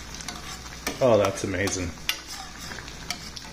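A spoon stirs a creamy basil sauce in a pan, making light scraping and clinking taps under a faint sizzle, while someone speaks briefly.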